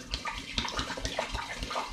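Hopped hard cider poured straight into a glass demijohn, a close, splashy gush of liquid with bubbling, gurgling pulses for a couple of seconds, no voices.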